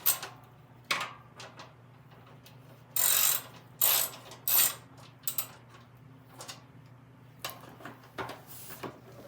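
Bolts on the drivetrain of a 33-inch Snapper mower are snugged with a ratchet: close, clicky ratcheting bursts in several short clusters, separated by quieter handling and tool noises, with no talking.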